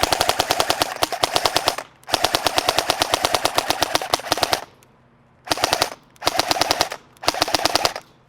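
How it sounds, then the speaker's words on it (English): A KWA Ronin 47 airsoft electric rifle fires in fast, loud full-auto bursts from close range, with rapid mechanical clatter and brief pauses as the trigger is pulled again and again. "I'm going to attempt to lock up the gears by rapid firing the trigger as fast as I possibly can."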